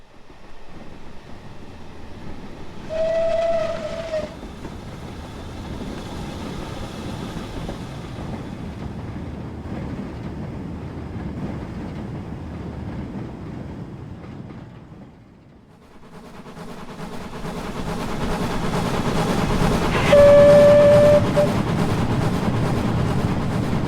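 A Caledonian Class 23 steam locomotive runs in Train Simulator, with a steady rolling chuff and rail rumble throughout, a short whistle early on, a brief lull, then a louder stretch with a second sharp whistle; no one speaks.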